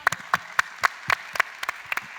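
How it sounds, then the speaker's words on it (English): Sparse claps from a small audience at a government best-practices forum, a dozen or so separate sharp hand claps spaced irregularly, fairly quiet and close. "Let's give them a round of applause."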